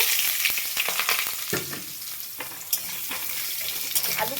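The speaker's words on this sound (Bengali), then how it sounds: "আলুটা আমি এবার ভালো করে ভেজে নেব।" Cubed potatoes frying in hot oil with tempered cumin seeds and bay leaf, a steady close sizzle broken by sharp scraping stirs of a spatula against the pan, no voices.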